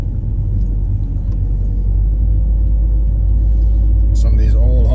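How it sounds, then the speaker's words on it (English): A car drives slowly around a park in a residential area of Orono, Minnesota, its steady low engine and road rumble continuous and close throughout, with a brief higher rattle near the end. "Basically making a drive around the park."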